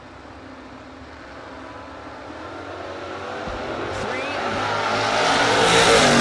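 Chevrolet Nova and third-gen Camaro launching at a no-box drag strip, with engine roar steadily growing louder and higher as the cars accelerate and approach.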